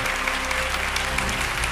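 An audience at a religious gathering claps in loud, steady applause throughout, a dense patter of many hands with no voices standing out.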